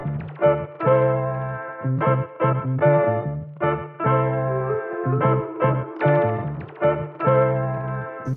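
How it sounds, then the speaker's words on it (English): Programmed beat loop with a medieval flute playing a short counter melody on top, a rhythmic, close and steady musical pattern of repeating phrases with no voices. "I added this little medieval flute"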